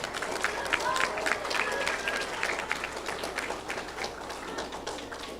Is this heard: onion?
no